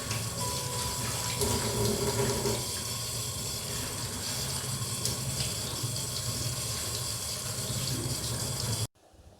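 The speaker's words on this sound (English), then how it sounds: "It's very important to wash the palak carefully." Tap water runs steadily over spinach leaves being washed in a kitchen sink, a soft continuous rush that cuts off abruptly near the end.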